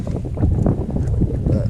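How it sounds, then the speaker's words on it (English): Strong gusty wind buffets the microphone outdoors on the California Delta while fishing, a continuous low roar and rumble with no clear talk. "Definitely getting windy out here."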